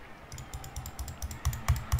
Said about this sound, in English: You can hear me clicking, right?